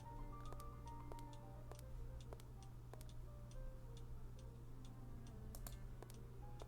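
Clock ticking in a storeroom in the game Sherlock Holmes: The Silver Earring, a run of soft, regular ticks at an even pace over a steady low hum, heard alone without voices.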